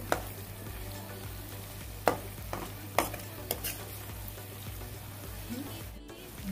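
Prawns fry in oil with masala, a low steady sizzle under a few distinct spoon knocks and scrapes as the pan is stirred, fairly quiet overall.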